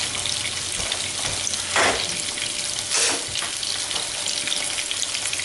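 Pork fillet medallions fry steadily in a pan with a dense, continuous sizzle, joined by a couple of brief louder bursts of crackle as the meat is moved or turned.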